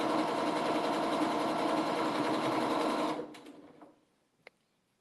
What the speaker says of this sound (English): Now I'm going to just sew down to that.